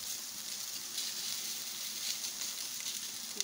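Bell pepper sizzling in a pan while cooking machaca: a soft, steady hiss of frying, faint and continuous, with no talk.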